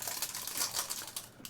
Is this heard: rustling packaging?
yes